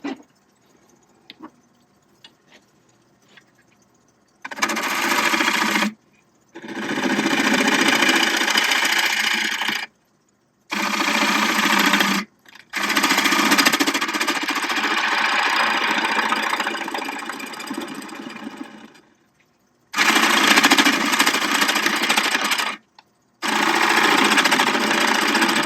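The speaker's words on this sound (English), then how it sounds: "I think I shall use the spindle gouge." Mango wood spins on a lathe while a spindle gouge cuts it, giving loud rough scraping bursts of a few seconds each, separated by short silent pauses.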